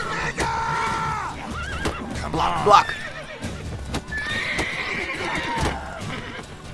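Horses neigh and whinny in The Witcher 3: Wild Hunt, their calls rising clearly during combat, with hoof clip-clops, weapon clashes and a man's excited speech woven through.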